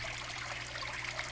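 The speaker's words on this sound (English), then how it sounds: "And then the water comes down, and as it drains through, and what it's doing is it's oxygenating itself." Water trickles steadily down through the drainage of a vertical garden planted in styrofoam-filled containers, a soft, continuous, close burble with no voices.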